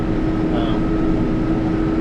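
A Mahindra 6065 PST 4x4 cab tractor drives along, its engine giving a loud, steady drone with a constant hum throughout.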